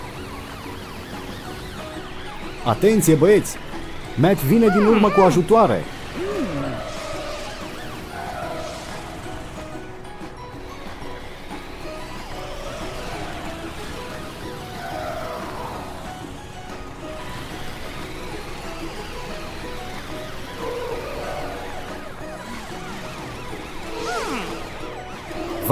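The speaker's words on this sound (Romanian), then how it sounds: "E momentul pentru sirena!" A cartoon truck's wailing siren rises and falls repeatedly in the background, with brief excited speech near the start.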